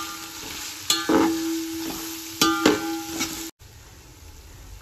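Sliced onions frying in a pot for chicken biryani, a steady sizzle broken by a few sharp scrapes and clanks of a stirring spoon, then a brief cut before the frying resumes.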